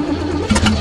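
An old Chevrolet engine cold-starts on choke in spring, giving a brief, loud, rough burst of cranking that catches into a mid-pitched roar.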